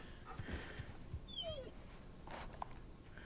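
A dog in the video game Uncharted 4 whimpering in short, high, whiny yips over quiet ambient game sound, faint and thin, with a few soft footsteps.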